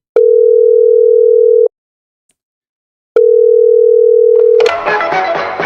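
A steady electronic telephone ringing tone sounds twice, each a long even buzz separated by a pause, before the line connects into a burst of broadband noise.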